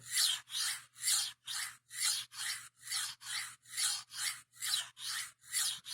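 A knife blade is drawn back and forth across a whetstone in about fourteen even, rasping strokes. The scraping is close and fairly soft, with no talking.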